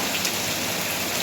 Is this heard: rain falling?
yes